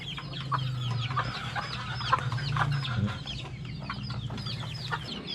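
A gold hen and her chicks on a farm: steady low clucking from the hen over a busy layer of high peeping chicks, close and continuous, with no talking.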